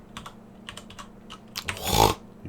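Keystrokes on a computer keyboard, a quick irregular run of taps ending in a louder burst of clatter, close and alone.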